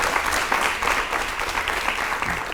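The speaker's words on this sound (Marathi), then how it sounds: "एकदा सरांसाठी टाळ्या वाजवूया" A student audience claps for a speaker at a youth programme on pollution: sustained, even applause from a roomful of people, moderately loud and unbroken throughout.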